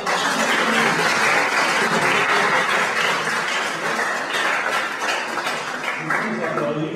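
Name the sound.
audience applause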